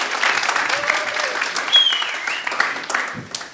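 An open mic audience applauds the performers with dense, sustained clapping, loud and close, mixed with scattered whoops and a few cheering voices throughout.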